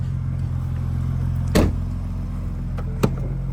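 Car doors thump shut twice during a used-car inspection, a dull close knock, then a sharper one over a steady low idle hum inside the vehicle.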